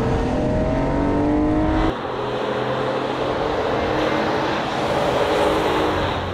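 Pickup trucks drag race, a Ford Ranger Raptor against a RAM TRX, their engines roaring loud and steady with a brief dip in pitch as gears change, then droning on.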